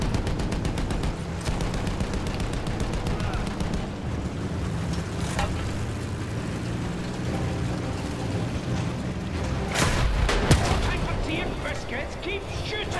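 Gunfire in the video game Battlefield 1, with rapid bursts and shots layered over a dense battle din, and a louder crack of fire toward the end amid continuous game noise.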